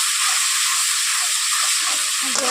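Spice paste for aloo dum sizzles steadily in the pan after a splash of water, a continuous bright hiss with faint stirring scrapes underneath.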